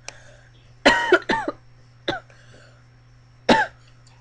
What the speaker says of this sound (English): I'm just gonna end here before I start coughing a lot more.